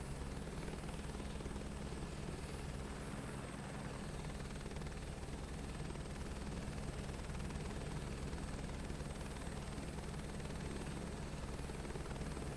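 Steady helicopter rotor drone and engine whine from a flight in Microsoft Flight Simulator 2024, a constant, even wash of sound with a low rhythmic rotor thump, no voices, holding unchanged throughout.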